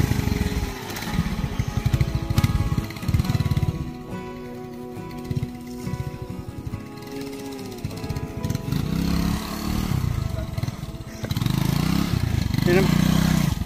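A motorcycle engine runs and passes on a rural road with river crossings, its mid-pitched drone rising and swelling close by near the end, with people talking intermittently over it.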